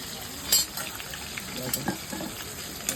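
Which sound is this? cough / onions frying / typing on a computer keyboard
onions frying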